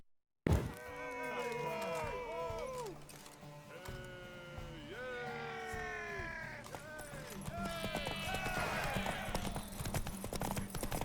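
Horse hooves clip-clop steadily while a horse whinnies and neighs over a continuous soundtrack in the video game The Witcher 3: Wild Hunt.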